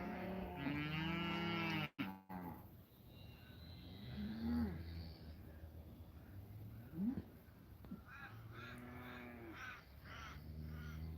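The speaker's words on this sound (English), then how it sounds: "There's the cows." Cattle mooing in several low, drawn-out calls at moderate distance, with crows cawing faintly between the moos.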